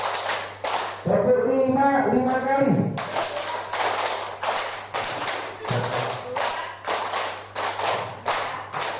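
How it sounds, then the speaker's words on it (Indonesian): Many hands clap together at a teachers' workshop in Lubuklinggau, crisp sharp claps repeating steadily in a regular pattern across the whole stretch, with a voice cutting in briefly near the start. "Tepuk 5 kali."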